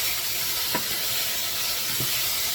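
Mango, cilantro, bell pepper and onion stir-frying in a hot pan, a steady bright sizzle and hiss with a couple of soft knocks from stirring, close and continuous without talk.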